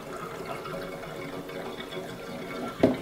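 Liquid pours steadily into a 3-liter swirl pot on a 3SGE-engined Lexus IS300, a continuous close trickling rush with a brief louder knock near the end.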